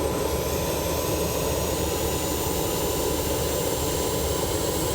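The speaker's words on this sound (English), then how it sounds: "There you go, you can hear the engine coming up." An aircraft jet engine runs during start, a loud, steady close roar with a high whine layered over it, holding constant without pause or speech.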